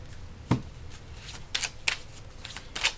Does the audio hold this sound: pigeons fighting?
no